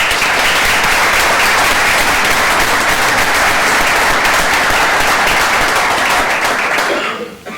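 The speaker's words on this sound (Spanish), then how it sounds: "Un buen aplauso para ti." A large audience applauds at a cultural event on doma vaquera horsemanship, dense sustained clapping filling the room at steady loudness before tapering off sharply at the end.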